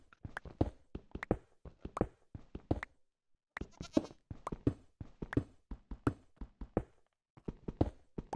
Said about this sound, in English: Hear the goats again.